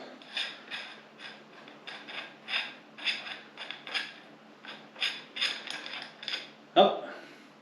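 Metal parts of a Stoeger XM1 Ranger air rifle being worked loose with the back of a knife or a part, a series of small scraping, clicking and ratcheting sounds ending in a sharper knock.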